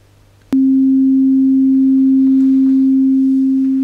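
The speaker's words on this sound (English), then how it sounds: "I've just put a low-level tone" Steady low-level test tone of about 300 Hz played through an Orange CR120 guitar amp, starting abruptly with a click after a brief quiet moment and then holding constant and unwavering to the end.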